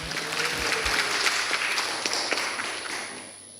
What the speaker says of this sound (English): A huge round of applause for Joel Bhaiya.